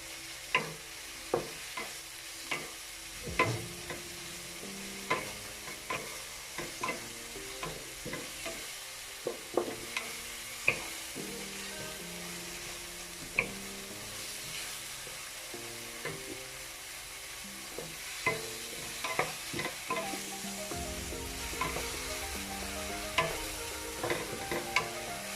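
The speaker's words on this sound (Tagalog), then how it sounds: "Haluin natin." Shrimp paste (alamang) for Bicol Express is stirred as it fries in a pan: a quiet, continuous sizzle is broken by frequent irregular clicks and scrapes of the spatula.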